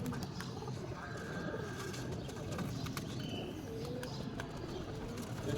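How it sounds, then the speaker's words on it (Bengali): A pigeon cooing nearby, soft low throaty coos repeating over a steady outdoor background, with faint clicks and other birds around. "এই যে এই কবুতরটা ফাঁস মারে"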